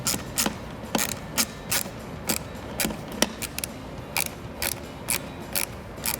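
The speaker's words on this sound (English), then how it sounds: "these are the Torx T20 screws, just going right back in where they came from" Torx T20 screws being driven back into a 2018-2023 Mustang digital instrument cluster, giving a steady series of crisp ratcheting clicks about every half second, close and clear with no talking.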